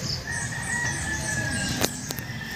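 A rooster crows once at a distance, a thin drawn-out call over a faint outdoor background with a couple of brief sharp clucks near the end.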